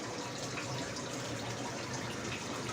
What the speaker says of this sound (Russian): в каждом аквариуме стоит распылитель, который качает воду. Вернее, качает не воду, а воздух.